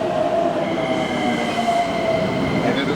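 A red local stopping train in Japan rolls along steadily, with a continuous rumble of wheels on rails and thin high squealing tones drifting over it, close and unbroken.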